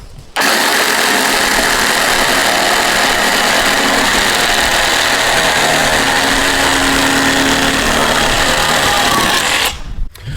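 A Makita cordless reciprocating saw runs steadily at a slightly lower speed of 2800 strokes, a loud continuous motor whine with no talk, starting abruptly and cutting off near the end.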